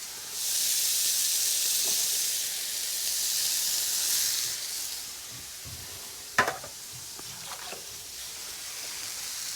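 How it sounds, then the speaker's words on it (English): A steady, hissing sizzle of lamb frying in a pan, loud at first then easing, with a sharp clatter of a utensil near the end. "Can't beat a sizzle, can you? We love the sound of a sizzle."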